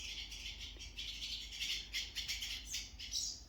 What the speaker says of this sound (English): I'm being attacked by birds.